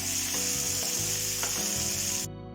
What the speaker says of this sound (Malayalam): ഇനി നമുക്ക് ഇതിലേക്ക് സവാള ഇട്ട് കൊടുക്കാം. ഈ സവാള ഒന്ന് നന്നായിട്ട് മൂക്കട്ടെ.